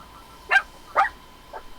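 A dog gives two short, sharp barks close by, then a fainter third yip, heard alone with no talk.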